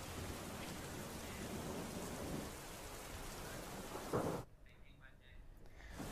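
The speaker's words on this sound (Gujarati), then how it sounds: "અરવલ્લીના ભીલોડામાં ધોધમાર વરસાદ વરસી રહ્યો છે" Heavy monsoon downpour in Bhiloda, Aravalli district, hisses as a dense, steady roar for about four seconds, then cuts off abruptly, leaving near quiet with only faint background sounds.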